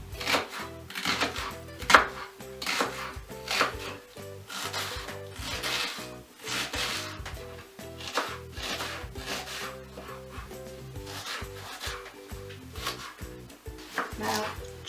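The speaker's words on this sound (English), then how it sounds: "First of all, chop the onions." A knife chops onions on a board with quick, steady, close strokes that run nearly nonstop, each cut a crisp woody tap, and the rhythm keeps going without pause.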